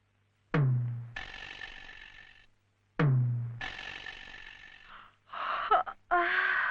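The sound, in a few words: yawning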